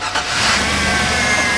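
A Baja-style Chevrolet Suburban truck engine cranks briefly and catches, then settles into a loud, steady running rumble close by, with no talking.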